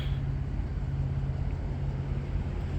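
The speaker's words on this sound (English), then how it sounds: "Pretty sure it's a loaded coal train." A loaded CSX coal train approaching through Woodbine, a steady low diesel rumble with a sustained engine tone, constant and fairly loud, with no voices.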